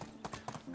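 A horse's hooves clip-clop in the medieval video game Medieval Dynasty, a quick rhythmic run of hoofbeats at moderate distance, with a voice faintly underneath.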